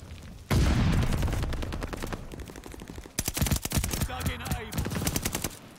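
Rapid bursts of MP40 submachine gun fire in the Call of Duty: Vanguard video game, loud and close, with a continuous burst then several shorter volleys of rattling automatic shots.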